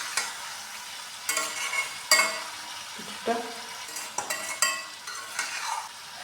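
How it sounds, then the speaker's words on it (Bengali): Spice paste stirred and fried in a pan for a chicken and egg curry, with repeated scraping stirs and clinks of a spoon against the pan over a low sizzle, near and fairly loud. "এখন এগুলো পেস্টগুলো দিয়ে দেবে মশলা"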